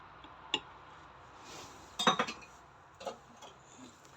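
A spoon clinks against the inside of a cup as sugar is stirred into hot milk, giving a few sharp, light metallic taps and a short cluster of quick clinks, close and fairly quiet.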